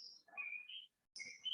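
Small birds chirp in short, clear tweets, a few calls with a brief pause between, crisp against an otherwise silent background.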